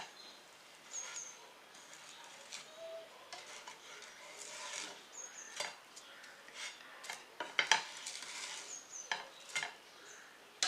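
Bread toasts in a pan and is flipped over, giving scattered scraping rasps and light metallic clinks of utensil against pan in irregular bursts, fairly quiet, with no talking.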